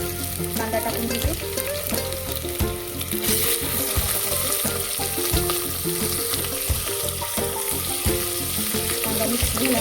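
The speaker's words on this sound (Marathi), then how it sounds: "यामध्ये मी कांदा टाकून घेते." Onion frying in garlic and ginger paste, a dense, steady sizzle close by, with the clatter of stirring in a pan and faint kitchen noise underneath, no talk.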